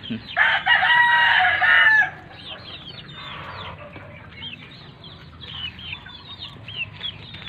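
Gamefowl roosters of pumpkin sweater and yellow-legged lines crow on a farm, one loud nearby crow first, then fainter overlapping crows and clucks from other birds in the background.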